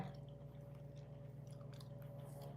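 Soft, close chewing of a mouthful from a bowl of Thai clear soup, faint and wet, over a low steady background hum.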